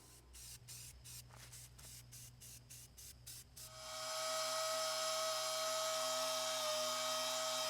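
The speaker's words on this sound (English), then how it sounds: "I know some of you might judge me for doing a rattle can job on this" Rattle-can spray paint hisses onto a Rhodes metal shaper: a series of short rhythmic bursts, then one long, steady, loud continuous spray close to the microphone, with no talking.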